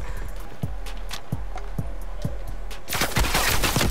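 Sniper rifle shots in Call of Duty: Cold War crack out as sharp single reports about half a second apart, followed by a louder, denser burst of gunfire at the end.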